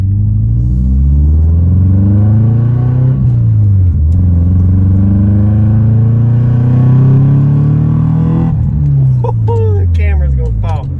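A Subaru fitted with a new engine revs hard through several rising and falling throttle sweeps, a loud, close, rumbling engine note that climbs and drops repeatedly, with a brief voice near the end.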